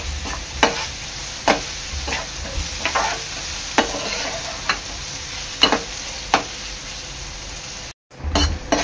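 Onion with salt being stirred in a frying pan for veg kolhapuri, a continuous sizzle broken by regular sharp scraping strokes about once a second, close, with no voices; it cuts out briefly near the end.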